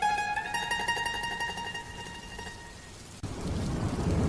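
Light drizzling rain patters as a soft hiss, first under a sustained tonal musical drone, then rising to a fuller steady wash after a brief cut.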